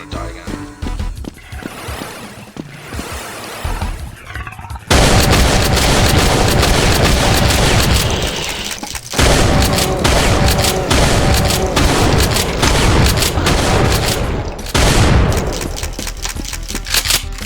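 Grenade blast in the Brutal Doom video game, a loud heavy boom that rolls into sustained roaring gunfire and explosions, dense and continuous after a quieter opening with rumbling noise.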